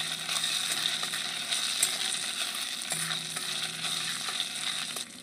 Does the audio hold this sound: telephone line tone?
no